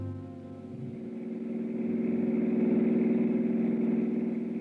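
A car engine in a radio drama roars away from the back of a house in a hurry, a steady, loud mid-pitched drone that swells slightly and holds.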